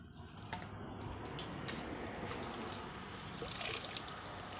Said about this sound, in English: Got to get a little bit of water into the bowl.